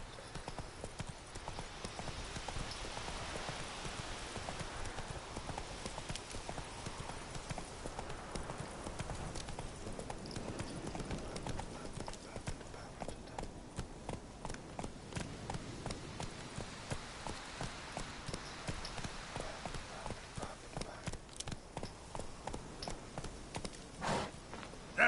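Horse hooves clip-clop in a steady, rhythmic gait across The Witcher 3, a continuous patter of close footfalls lasting the whole stretch, fairly quiet and without talking over it.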